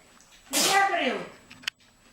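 A single loud sneeze bursts out with a sharp onset and trails off over about a second, followed by a brief click, set in a quiet kitchen.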